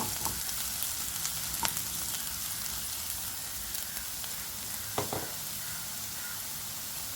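Ingredients sauté in a pan for a Malayalam home-cooked iftar snack filling, giving a steady broadband sizzle with occasional scraping stir knocks, close and continuous, with no talking.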